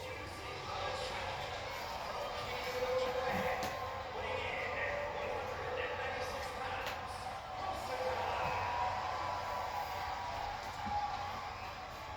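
A wrestling crowd at the Hammerstein Ballroom roars and cheers steadily throughout, a dense, sustained wash of voices with a few louder swells and claps rising out of the noise.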